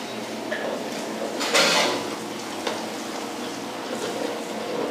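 Mutton stew being stirred in a large cooking pot at a halwai's shop: faint scraping and clinking of a ladle against metal over a steady low simmering hiss, with one brief louder scrape.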